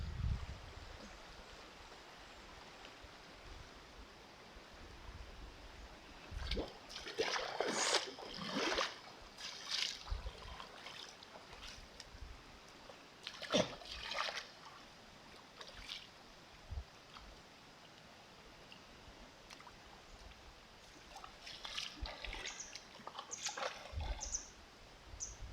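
Someone bathes in cold water, making intermittent splashes and sloshing at moderate distance. Quieter flowing water murmurs in the background between them.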